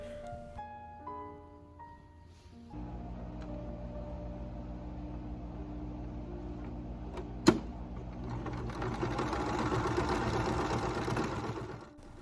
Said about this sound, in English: it was time to head over to the sewing machine